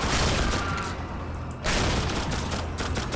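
An ancient shotgun fires in the video game The Darkness II, dense blasts and rattling gunfire of combat filling the whole stretch at moderate level, with a short dip in the noise midway.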